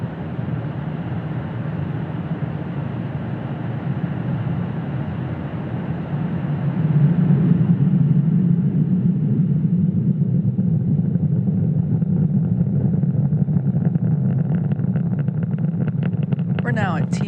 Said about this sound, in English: Falcon 9 has successfully lifted off from Space Launch Complex 40 from Cape Canaveral, Florida